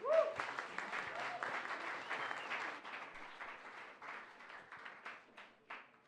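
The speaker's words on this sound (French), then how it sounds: "j'ai envie aussi qu'on applaudisse encore une autre fois les présentateurs" Audience applause for presenters at a future-technologies event rises right away, then thins into scattered claps that fade unevenly toward the end, with a brief voice at the very start.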